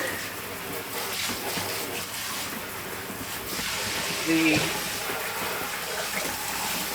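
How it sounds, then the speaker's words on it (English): Water pours into a container to soak a pair of overalls, a steady rushing and splashing that runs through the whole stretch while a person talks over it. "So step one, I'm going to soak"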